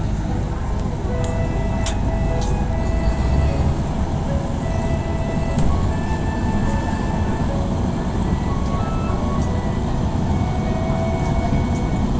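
A DEMU passenger train running from Naypyitaw to Yangon, heard from inside as a steady loud rumble of wheels and engine, with faint squeals and rattles riding over the continuous drone.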